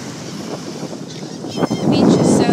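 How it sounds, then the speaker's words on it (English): Wind gusting at a beach, rushing steadily over the microphone and swelling louder toward the end, with a faint wash that could be surf underneath; no talk. "the wind is like blowing in my hair right now"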